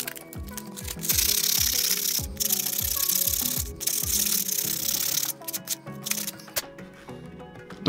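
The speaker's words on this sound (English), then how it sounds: "Now we'll get to sanding. And we'll just sand this smooth." A cut part's edges are smoothed by hand sanding during a 2018 Aprilia Tuono Factory build. Rhythmic, close scratchy strokes rasp back and forth, broken by brief pauses and a few louder scuffs.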